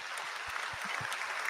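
Applause at the close of an online entrepreneur interview, a continuous patter of clapping at moderate level, filling the moment without any voices.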